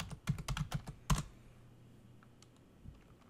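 Someone types a password on a computer keyboard while logging into Red Hat Linux in VirtualBox, a quick close burst of crisp clicking keystrokes followed by faint scattered taps.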